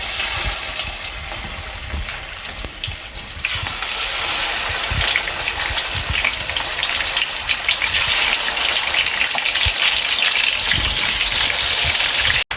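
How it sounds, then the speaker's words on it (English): Loud, steady sizzling and crackling of washed chicken pieces frying in hot oil for pulao kabab, a dense hiss with scattered pops, close up and uninterrupted. "I am going to start frying the chicken that I had washed. I'm going to be putting it in the hot oil."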